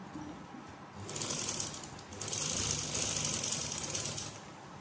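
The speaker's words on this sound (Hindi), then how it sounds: "यहाँ एक सिलाई लगा लेंगे। ये सिलाई हम एक पैर से कम की लगाएंगे।" A sewing machine runs in two short bursts while stitching a fold in fabric, giving a fast mechanical whirring rattle that starts, pauses briefly, then runs again a little longer before stopping.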